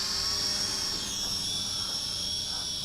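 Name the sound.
XK X300 FPV drone flying over sand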